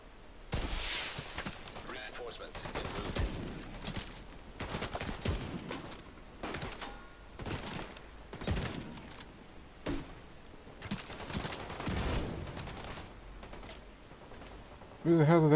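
Rapid bursts of gunfire from a new weapon in The Division 2, set in New York City, crackling in repeated volleys over about fifteen seconds with brief gaps, loud and close, with a voice talking between shots.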